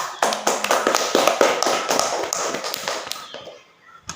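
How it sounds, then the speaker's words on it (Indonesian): Students at a school OSIS training session break into applause, a dense burst of clapping lasting a few seconds that thins and fades out near the end. "Berikan aplaus untuk laki-laki."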